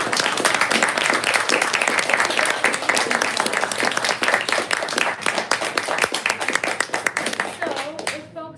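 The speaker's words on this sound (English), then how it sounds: "Let's give them a round of applause" Sustained applause from an audience at a poetry reading, dense clapping that holds steady and loud throughout before cutting off at the end.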